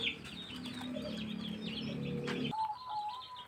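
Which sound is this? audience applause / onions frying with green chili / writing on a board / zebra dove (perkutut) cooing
zebra dove (perkutut) cooing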